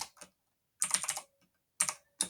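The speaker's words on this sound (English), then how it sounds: "And then I'm going to type in Valerie" Keystrokes on a computer keyboard, typed in quick bursts: a short flurry, a longer run of clicks, then two more brief bursts with pauses between, close and clear with no talking.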